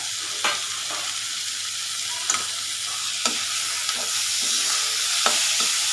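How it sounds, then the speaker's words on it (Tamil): Ginger-garlic paste, green chillies and chopped tomatoes sautéing in a pan for a yam kola urundai gravy, with a steady broadband sizzle and occasional sharp scrapes of a spoon against the pan, close and alone. "தக்காளியும் நல்லா வதங்கணும்"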